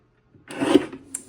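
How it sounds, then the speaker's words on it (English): Cardstock strips slide and rasp under a paper trimmer blade, one short close scraping cut lasting under a second, with a faint click after it in an otherwise quiet room. "Now these strips I'm going to trim at 8"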